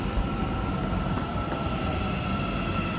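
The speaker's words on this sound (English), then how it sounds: "I hear some train, let's run." A train rolls by at close range, a dense steady rumble with a thin metallic wheel squeal running over it.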